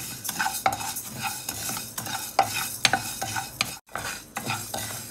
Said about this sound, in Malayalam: അടുത്തത് പച്ചരി കൈവിടാതെ ഇളക്കണം